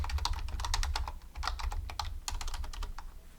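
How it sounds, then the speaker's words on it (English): Quick, steady typing on a computer keyboard, with dense clusters of key clicks over a low hum and a brief pause midway. "If I can remember to type correctly, helloworld.java."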